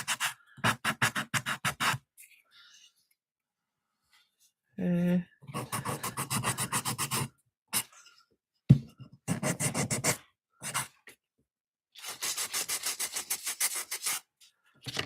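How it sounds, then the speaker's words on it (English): Painted thrifted furniture is sanded by hand to distress it, giving repeated rhythmic rasping strokes in several bursts separated by pauses, close and fairly loud. "I like it when you sand it and you kind of see those lines."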